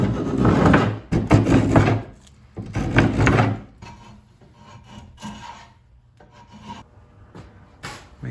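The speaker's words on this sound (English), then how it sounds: "now we got our draw knife all sharp, and we're going to go ahead and start cutting that" A sharp draw knife shaves along a wooden bow stave to taper it, with two long rasping strokes up close followed by quieter scraping and rubbing.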